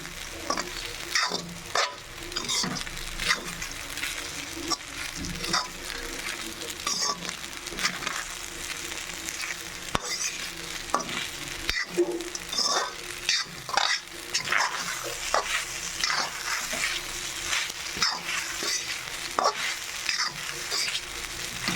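Potato sabudana khichdi is stirred and fried in a pan, with a spoon scraping and clinking against the metal in an uneven rhythm over a steady sizzle, up close with no talk.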